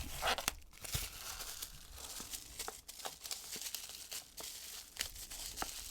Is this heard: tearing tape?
yes